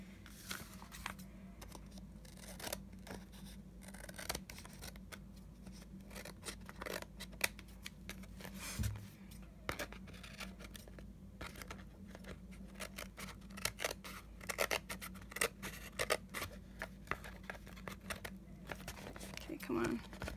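Scissors snip steadily around the edges of a collage journal card, a close run of small crisp cuts with paper crinkling, with light talk at times.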